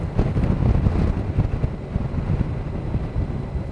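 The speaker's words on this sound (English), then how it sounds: "wind is chilly on the forehead and the cheeks" Wind rushing past while riding a Goldwing motorcycle along a coastal road, a loud, steady low buffeting roar of microphone wind noise throughout, with no talking.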